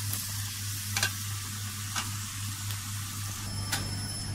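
Seafood being stirred and sautéed in a hot pan, a steady sizzle with a few sharp scraping knocks of the spoon at regular intervals, close and moderately loud with no talking.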